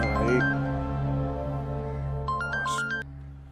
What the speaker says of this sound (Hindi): किसका फोन है भाई?